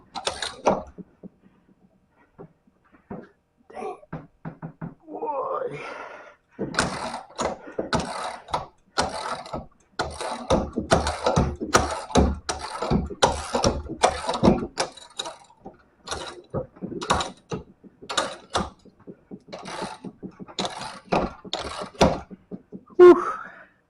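Ratchet clicks come in irregular bursts as a wrench works loose a bolt on a trailer leaf spring, with pauses between the runs of close, sharp clicking and no talk.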